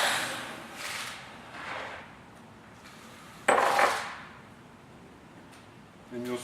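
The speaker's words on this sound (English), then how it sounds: "Now I'm going to cut through 8 layers of this material, which is going to cut just fine" A Tippmann Clicker die cutting machine drives a 1¼-inch-high forged steel rule die through eight layers of material: a sharp, loud thud with a short mechanical follow-through, amid softer handling noises.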